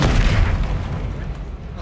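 An Expelliarmus spell effect in the video game Hogwarts Legacy lets off a loud, booming burst that fades over about two seconds.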